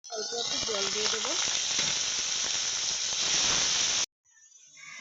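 Water hits ginger paste and green chili frying with dried red chili and bay leaf for a cauliflower curry, setting off a loud, steady sizzle and hiss that cuts off sharply near the end.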